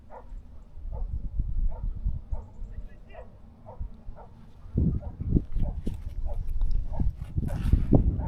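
Hunting dogs bark at a wild boar repeatedly in the distance, a steady series of yaps, while rustling and footsteps move nearby and a faint voice is heard.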